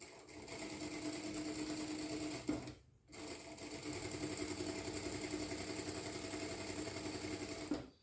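A sewing machine runs steadily while stitching knit fabric, a continuous whirring drone that cuts out briefly near three seconds before resuming, close and alone with no talk.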